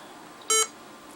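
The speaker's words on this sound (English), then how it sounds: "Beep." A Toshiba Tecra 8000 laptop emits a single short, sharp electronic beep while trying to read a missing floppy during driver installation, loud against a quiet hum.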